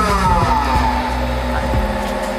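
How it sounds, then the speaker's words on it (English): An industrial hydraulic power unit motor runs at 1800 RPM with a loud, steady mechanical hum and a tone that shifts slightly early on, with no speech. "runs the motor at 1800 RPM."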